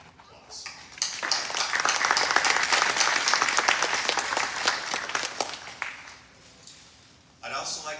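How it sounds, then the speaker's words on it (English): A graduation crowd at Charter College in Canyon Country applauds in a dense, steady burst lasting several seconds before fading; a speaker's voice is heard briefly at the start and again as the clapping dies away. "give yourselves all a great hand and applause"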